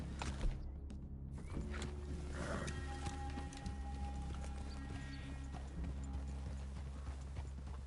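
Steady clip-clopping of horse hooves in Red Dead Redemption 2 over a constant low rumble, with occasional faint rustles and a high tone in the background.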